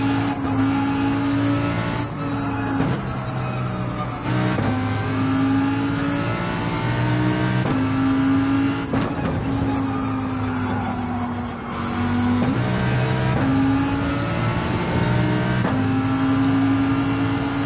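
A GR3 race car in Gran Turismo 7 roars steadily on track, its engine note climbing through the gears with brief dips at each shift and braking zone, loud and continuous throughout with no talk.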